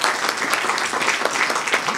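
A hall audience applauds the panel at a people's tribunal on the GE13 election delivering its findings, steady close clapping throughout the short stretch without pause.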